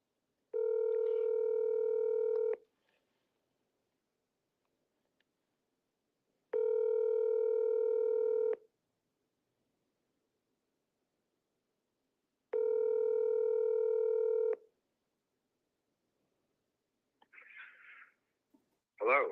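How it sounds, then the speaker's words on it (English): A telephone dials out to a realtor: three long, loud, evenly spaced ringback tones with pauses between them, followed by a few faint clicks and a short burst of sound at the end. "I'm calling right now."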